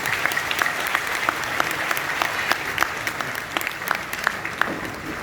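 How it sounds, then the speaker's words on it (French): A ceremony audience applauds after a speech by the sponsor of a university faculty graduating class, continuous dense clapping with sharper individual claps standing out, moderately loud and even throughout. "Nous prions d'applaudir encore une fois la marraine, la notaire, la présidente."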